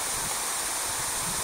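A dense, steady hiss of heavy rain pouring down outdoors on a river fishing trip, constant and close, with no voices or breaks.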